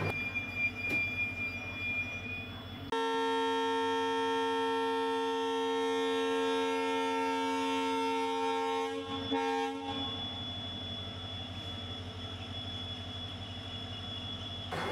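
A passenger train on the Thiruvarur–Karaikudi line rumbles along with a long steady horn-like tone held for several seconds over the running noise, then fades back to the rolling clatter.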